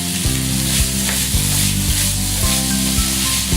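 Carrots and other vegetables sizzle and fry in a pan, a loud, steady crackle close up, broken by several sharp scrapes and clacks of stirring spaced through the clip.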